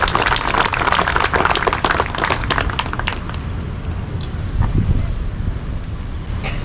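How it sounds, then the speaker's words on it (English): Crowd applause at an outdoor Memorial Day ceremony in Stamford, a dense patter of clapping for about three seconds that thins out under steady wind noise. "could you please give him a round of applause?"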